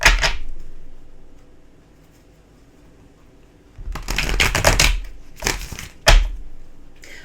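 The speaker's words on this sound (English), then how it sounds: "a couple more shuffles here" Tarot cards being shuffled by hand, heard as one short riffle followed by a long quiet gap and then several close, crisp shuffling bursts. No one speaks.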